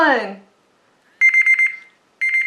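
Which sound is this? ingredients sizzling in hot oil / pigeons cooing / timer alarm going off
timer alarm going off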